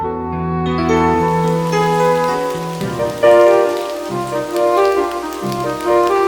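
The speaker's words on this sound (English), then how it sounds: "Suddenly, and without warning, it begins to rain heavily" Heavy tropical rain pours steadily in the Amazon for several seconds, loud and close, with a dense wash of drops drumming on surfaces.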